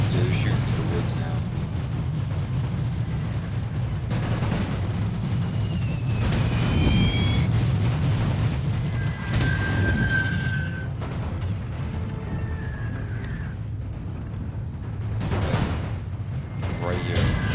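Gunfire and booming artillery from The Great War: German Empire, a World War I strategy game, with scattered shots and heavy blasts over a dense, continuous battle rumble, and a voice talking over the din.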